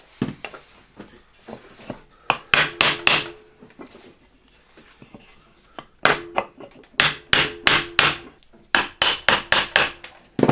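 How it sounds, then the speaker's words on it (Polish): A hammer taps repeatedly on the metal end cover of a 1958 Croatia single-phase electric motor during disassembly, in quick clusters of sharp knocks, some louder than others, with brief pauses between the groups. "teraz jednak wezmę młotek"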